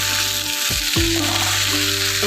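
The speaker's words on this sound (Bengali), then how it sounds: "এদিকে আলু ভাজা করছি" Potatoes fry in a pan with a loud, close, continuous sizzle, broken by a couple of soft thumps and a brief tonal whine partway through.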